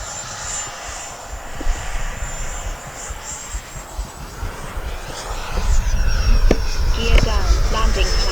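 An FMS F-86 Sabre 80mm RC jet flies past with a steady whining turbine roar that swells louder toward the end as the throttle rises, with faint outdoor background.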